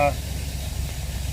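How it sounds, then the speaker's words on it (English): Car engine fitted with FiTech fuel injection idling at slightly high RPM after a first start-up, a steady low hum, close and continuous, following a brief voice at the start. "RPM might be a little bit high, so we can adjust that, but idling pretty steady."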